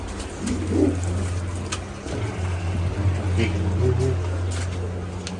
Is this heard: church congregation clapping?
no